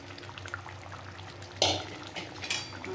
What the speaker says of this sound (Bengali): এবার আমি মাছগুলোকে দিয়ে দিলাম